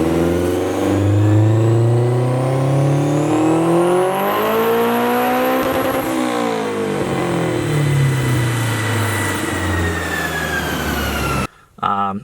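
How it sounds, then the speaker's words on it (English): A turbocharged 500 hp Honda S2000 running on E85 accelerates hard, loud and close, its engine pitch climbing through the gears with a high turbo whine and a sudden cut at the end. "500 horsepower Honda S2000"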